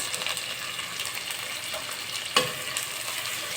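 Onion and chili sizzle in hot oil in a pan, with continuous frying hiss and a sharp clink of a stirring utensil partway through, close and steady with no voices.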